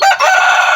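Pet chickens at feeding time, a rooster crowing with clucking hens close by, one continuous loud call under a bright, steady flock din.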